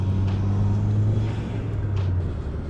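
A Volvo wagon on new BC Racing coilovers and Mitsubishi EVO camber and toe arms drives along, its engine giving a steady, loud low hum and road rumble heard from close by, with no talking.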